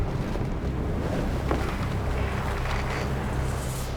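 Strong, heavy wind buffets a ship at sea off Cape Dorset, a continuous dense roar with rushing water mixed in.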